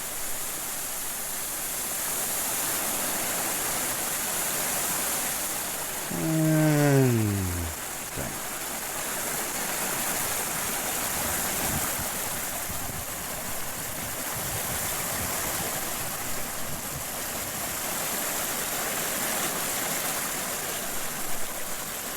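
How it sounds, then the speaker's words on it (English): Large garden water cascade at Alnwick Castle Gardens, a steady broad rush of falling water throughout, with a brief descending whistle-like sound passing over it early on. "It is quite a nice spectacle to have a garden that has a massive water features like this."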